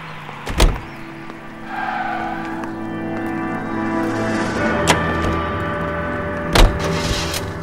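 A car drives in the video game L.A. Noire, its engine droning steadily at mid distance, broken by a few sharp thumps and brief tire noises, with no talking.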